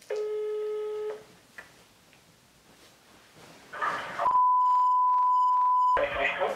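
A phone call to a hairdresser opens with a steady tone, followed by several short dialing beeps and then a long, loud ringing tone. Soft breathing and rustling fill the gaps between tones.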